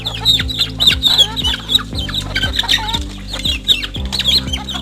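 Free-range native chickens, about two months old, cluck and chirp busily while pecking at feed of cabbage mixed with rice and bran, a close, steady flock chatter with overlapping calls.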